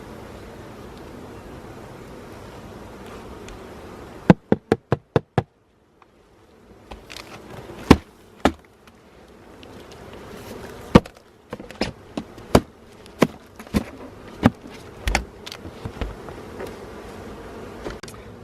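Honeybees buzz around a hive while nucs are being transferred, a faint steady hum in the background under a series of sharp knocks and clatters from hive equipment being handled nearby.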